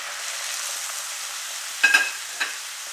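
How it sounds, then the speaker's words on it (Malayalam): Beans and yam stalks coated in ground coconut paste are stirred in a frying pan for chena thandu thoran, a steady soft sizzle with a couple of brief scraping stirs near the end. "ഇപ്പോൾ എല്ലാം കൂടെ നല്ലതുപോലെ ഒന്ന് ഇളക്കി വയ്ക്കാം"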